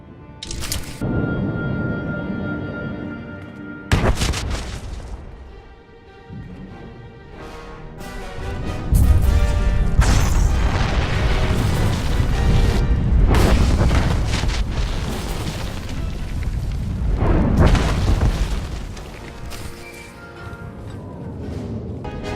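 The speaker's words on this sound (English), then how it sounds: "SIS chatter is reporting an Imperial intelligence operative caught in the explosion" Bomb explosions in Star Wars: The Old Republic boom loudly, several heavy blasts and rumbling bursts following one another across a long, dense stretch with no talking.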